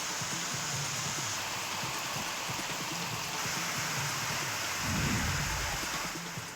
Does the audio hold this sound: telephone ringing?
no